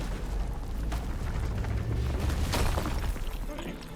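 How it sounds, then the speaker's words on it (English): Rock explosion in the video game RuneScape: Dragonwilds, a dense rumbling blast with crackling debris and a sharper burst midway, sustained loud noise throughout with no clear speech. "Rock explosion."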